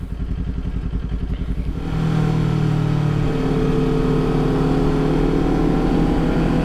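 A new Ford Mustang passes close by at a Mustang car show, its engine idling with a steady rumble before opening up into a louder, sustained rev.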